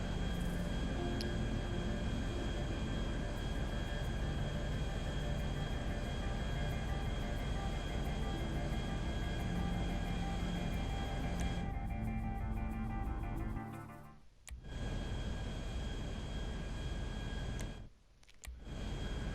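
Airliner engines drone in a steady, loud cabin-level hum while the plane climbs after takeoff, the tone unbroken until brief dropouts near the end.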